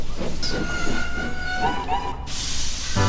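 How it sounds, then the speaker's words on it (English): A ballast train rolls slowly onto a siding, a steady rumble of wagons with a sustained squealing tone and bursts of hiss, heard close and loud throughout. "That afternoon, Douglas came in with the last ballast train."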